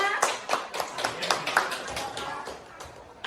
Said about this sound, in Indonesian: Tepuk tangan dulu oleh Bapak Putu Redana.